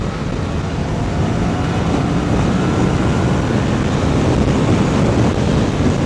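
A Kawasaki Ninja 650 motorcycle accelerates along a highway, its engine noise blending with heavy, continuous wind rush at a steady loudness.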